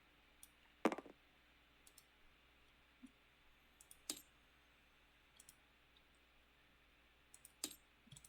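Two dice roll during a board game, heard as scattered sharp clicks and clatters on a hard surface, one louder strike near the start and a few more spaced out, with quiet gaps between.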